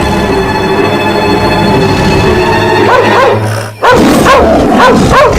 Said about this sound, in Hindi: इतना क्यों भौंक रहे हो? लगता है पूरे गांव को जगा दोगे।